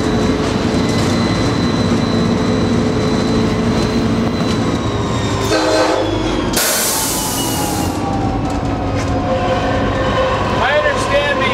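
An Amtrak California Zephyr train rolls by with a loud, constant rumble and clatter, and a locomotive horn blast sounds partway through.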